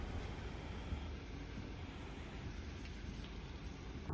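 Steady rain falls outdoors at Mitchell, South Dakota, a soft, even hiss that holds constant throughout with no voices.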